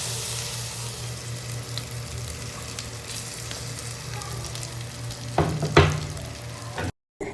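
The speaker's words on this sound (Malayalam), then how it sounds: "ഇനിയിപ്പോൾ ഈ ഒരു പഴം നെയ്യിൽ നന്നായിട്ടൊന്ന് മൂപ്പിച്ചെടുക്കാം കേട്ടോ." Small pieces of ripe banana fry in ghee in a pan, giving a steady soft sizzle, with a couple of louder stirring clatters near the end and a brief dropout.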